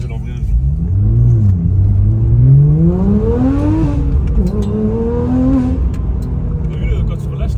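A car engine with an IPE exhaust line revs up and down, loud and close, with rising and falling harmonic tones that swell and then drop off, droning steadily throughout.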